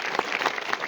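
A school crowd's applause for an elderly teacher during a Deputy Commissioner's visit to a high school, dense steady clapping from many hands, loud and close, brief.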